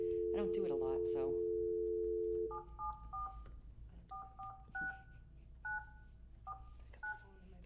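Touch-tone telephone keypad dialing for a conference call in a meeting room: a long steady tone at first, then a rapid series of short dual-tone beeps in clustered bursts, moderately loud with faint room noise beneath.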